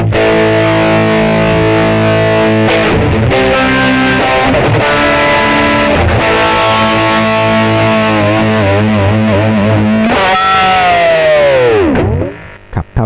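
A loud, heavily distorted electric guitar played through a Tech 21 OMG Richie Kotzen overdrive pedal plays sustained chords and notes, ending with a pitch-bending wobble as the sound dies away.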